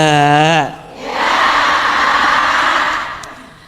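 A voice calls out briefly, then an audience at an Islamic parenting talk breaks into clapping and cheering that swells, holds for a couple of seconds, and fades.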